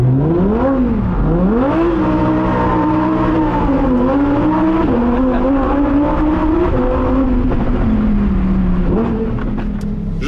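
A 640-horsepower rear-wheel-drive Lamborghini Huracan STO roars loudly from close by, its engine revs climbing and dipping repeatedly as it accelerates hard through the gears.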